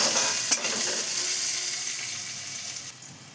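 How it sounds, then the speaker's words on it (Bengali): Chopped onion frying in a pan, a steady close sizzle with a sharp scrape of stirring near the start, slowly fading over a few seconds with no voices. "এবার এটাকে একটু সামান্য একটু ভেজে নিই।"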